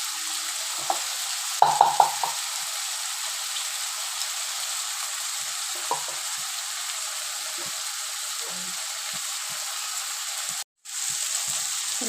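Turmeric, salt and spices frying in a pan for a dry fish chutney, a steady bright sizzle with a few sharp utensil taps early on and occasional soft stirring knocks, briefly cut off near the end, without talk.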